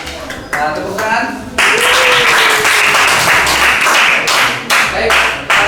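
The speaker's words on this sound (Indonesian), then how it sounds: "Tepuk tangan." Students in a history classroom give a loud burst of hand clapping that runs for several seconds, with voices briefly audible at the start.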